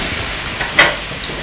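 Water hitting a thalipeeth on a hot griddle gives a steady, loud sizzling hiss throughout, with one brief sharper flare partway through.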